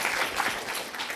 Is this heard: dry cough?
no